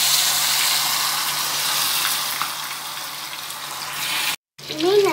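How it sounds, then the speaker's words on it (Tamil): Steady, close sizzling of fish frying in hot oil fills the clip, a continuous crackling hiss, cut briefly near the end. "மீன் நல்லா பொரிஞ்சுக்கிட்டு இருக்கு."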